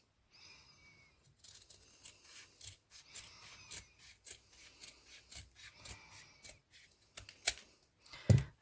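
Scissors snip through 3-inch ribbon for a hair bow, making a steady run of short, crisp cuts and rubbing sounds, close up, with one sharp clunk at the end.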